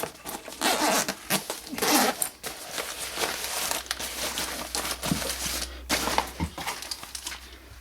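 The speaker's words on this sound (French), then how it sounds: "ça, c'est ma trousse de premier secours, hein. Donc, je vais vous l'ouvrir." The zipper on a first aid kit pouch is pulled open in several close, rasping strokes, mixed with crinkling fabric and handling noises. No one speaks.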